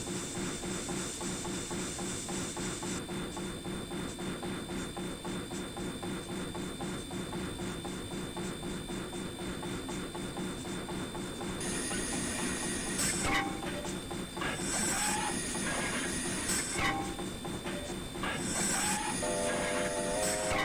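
A Kb class steam locomotive in a train simulator runs with its booster engaged, giving a loud, continuous chuffing hiss and rumble. Bursts of clanking and squealing metallic noise rise in the second half.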